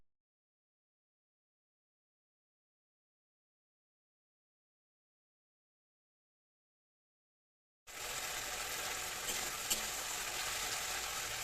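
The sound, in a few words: spices, capsicum and green peas frying in a pan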